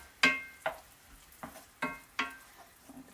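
Partly cooked prawns are tossed in a pan with chili and garlic, giving several distinct scraping, sizzling bursts at uneven intervals over a soft background hiss, close by and with no talk.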